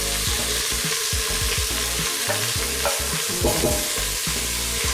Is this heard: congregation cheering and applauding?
no